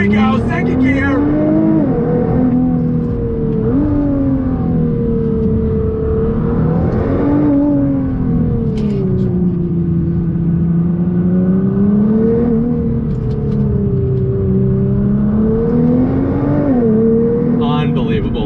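A Nissan GT-R pulls hard in second gear, its engine note climbing and dropping in repeated surges, loud and close, with a turbo whir over the drone.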